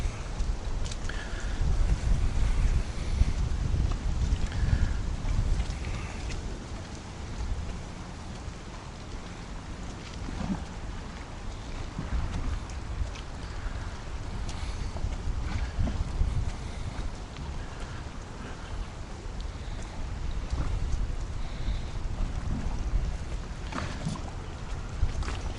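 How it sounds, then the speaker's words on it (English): Wind blows across open water, a constant rough buffeting rush striking the microphone with low rumbling gusts throughout, with no voices. "the wind is just coming right in our face"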